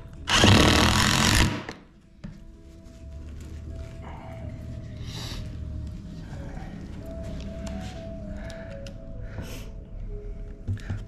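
A power drill bores during a Jeep JKU sleep platform build as hinges go on, first a loud, close burst of whirring, then lower steady workshop noise with intermittent tool sounds and a voice talking over it.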